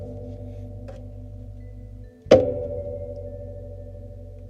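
A small book is set down on a desk with one soft, dull thud. It sits under a steady background hum and quiet music and is otherwise alone.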